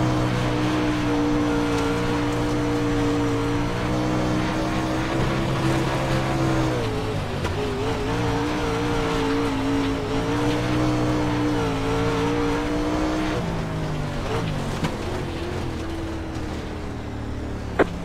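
A race car engine in the iRacing sim drones loud and steady through a lap, its harmonic pitch holding, dipping on downshifts, then climbing again, with no talk.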